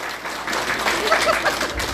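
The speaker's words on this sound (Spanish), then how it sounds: "Aplausos, fuertes aplausos por su hinchada." Applause from the crowd at a mass wedding celebrating a province's 194th anniversary, a steady dense patter of many hands filling two seconds, with voices and cheers mixed in and a louder burst near the end.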